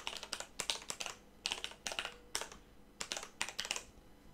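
Fast bursts of close computer keyboard typing, clustered keystroke runs separated by short pauses while entering an ID in the Creation Kit editor, no voices.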